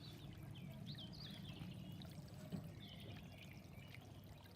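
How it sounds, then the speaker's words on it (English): Water trickles and pours steadily in the background, a soft continuous babble with faint birdsong chirping above it. "I do like the sound of running water"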